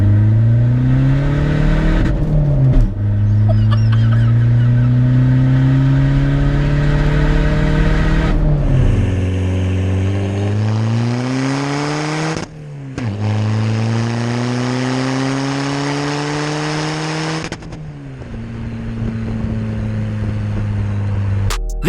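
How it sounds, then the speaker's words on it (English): A 240 bhp hybrid-turbo diesel Skoda Fabia VRS accelerates hard from inside the cabin, its engine note climbing loudly through several gears with brief dips at each shift. "we're going to put our foot down. Traction is off though"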